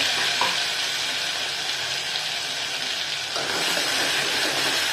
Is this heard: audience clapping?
no